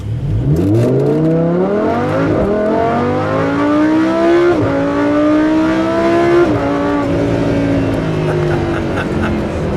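A matte grey 2015 Lamborghini Huracan LP 610-4 with a V10 engine in Corsa mode accelerates hard, the loud engine note climbing through gears with sharp shifts and a rising howl, heard from inside the car.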